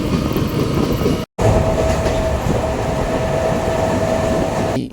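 A MEMU train pulling away after a one-minute station halt, with a steady loud rumble and rolling wheel noise, a brief dropout near the start, then constant onboard running sound.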